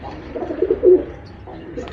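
A Lambadi pigeon coos up close, giving a low, throaty, rolling call that rises in the middle and then trails off, with faint background sounds after it.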